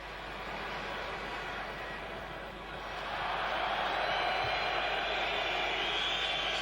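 Football stadium crowd at a 1975 West Germany versus Netherlands friendly, a broad steady roar that swells noticeably partway through as spectators react to a possible foul, distant and continuous.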